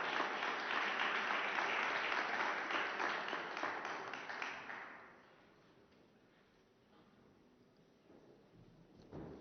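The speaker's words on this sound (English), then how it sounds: "A round of applause for the signing of those 3 loan agreements" Applause at a press conference for the signing of three loan agreements, a dense wave of clapping for about five seconds that fades away into quiet room tone, with a brief stir at the end.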